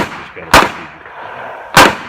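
Two sharp, loud revolver shots ring out at an IDPA shooting match, about a second apart, each with a short outdoor echo trailing off, and a low murmur between them.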